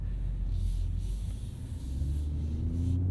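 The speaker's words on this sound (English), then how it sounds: "a little rasp from that exhaust there" Exhaust rasp from a 2023 BMW M340i with a ZF 8-speed driving through Coachella Valley, a low steady engine rumble and rasp heard from inside the car, with no talk.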